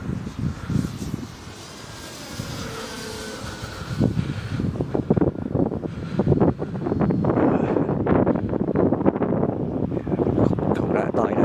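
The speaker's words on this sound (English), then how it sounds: "It's a bit too windy for it." Strong cold wind buffets the microphone at a model airplane flying field where an FMS P-51B is flown, a steady broadband roar that grows louder through the second half, with brief bursts of speech.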